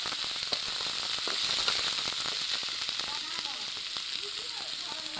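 Onions and chilli fry in a pan in a home kitchen, giving a steady bright sizzle with dense crackling pops throughout, close and moderately loud, with faint voices at times.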